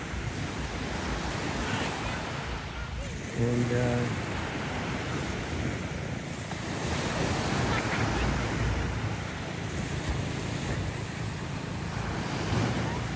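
Surf from the West Philippine Sea rolls steadily onto a beach in a continuous broadband wash, with wind noise buffeting the microphone and a brief voice near the middle.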